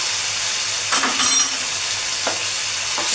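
Tomato sauce, chilli sauce and green chilli being stirred together in a pan for an Indo-Chinese dish, a close steady sizzling hiss broken by a few short scraping spoon strokes, no talking.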